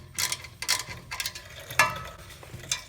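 A wrench ratchets while a bolt on a Ford Ranger exhaust tip is tightened, giving several short clicking bursts in an uneven rhythm, close and fairly clear.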